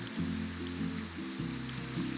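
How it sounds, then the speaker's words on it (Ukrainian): Steady hiss of the new acid rain weather in the Roblox game Grow the Garden, a continuous even wash under a looping low game melody, with no talk. "Новий такий дощ з'явився. Кислотний"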